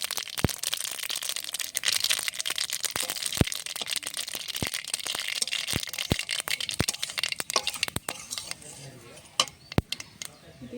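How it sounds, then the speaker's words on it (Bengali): Mustard seeds and whole dry red chilies crackle and pop in hot oil, with many sharp, irregular snaps scattered over a steady sizzle, close and loud throughout. "এই জন্য দিয়ে দেবো সর্ষে আর গোটা শুকনো লঙ্কা ফোড়নে"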